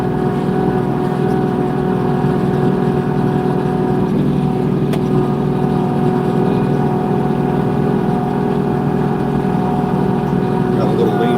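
Steady idling drone of a Kubota LX2620 HSDC cab tractor engine with a Titan snow plow, running continuously at close range with a low harmonic hum and no speech.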